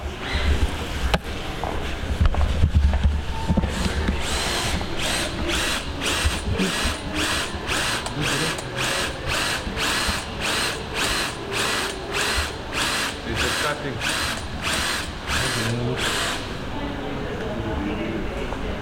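A power drill drilling out welds on car seats whines in a long series of short, regular bursts, close and loud, with clattering and workshop noise around it.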